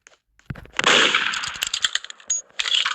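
Roblox Murder Mystery 2 gunfire sounds as a loud burst of sharp, rapid, close shots with metallic clanks, followed by a few more scattered shots after a short pause.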